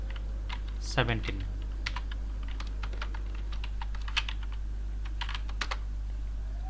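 Light, irregular keystrokes on a computer keyboard, close and fairly quiet over a steady low hum, with a short spoken word near the start.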